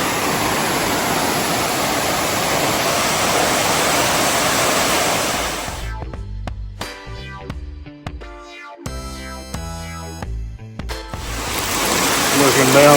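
Cavern Cascades waterfall in Watkins Glen State Park roars as a loud, steady rush of falling water for about six seconds, drops away to quieter tones and clicks in the middle, then swells back in near the end.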